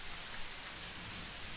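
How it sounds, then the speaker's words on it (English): Heavy monsoon rain pouring down on a stormy night, a dense, even hiss of countless drops striking surfaces, steady and enveloping, faint in level but unbroken. "The rain surrounds you like a cave."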